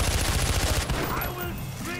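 Machine gun fire in the video game Far Cry: a rapid, loud burst of rattling shots that fades into a rumbling echo within two seconds.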